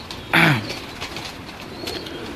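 Pigeons at a loft give a short burst of cooing near the start, with a brief flutter of wings, then only faint background noise remains.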